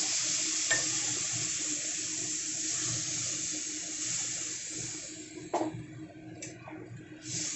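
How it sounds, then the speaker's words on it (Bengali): Water poured into a fish curry in a pan, a loud continuous gushing splash that dominates throughout, easing slightly near the end with a few brief sizzles and clinks. "এখন আমি এখানে জল দিয়ে দেবো।"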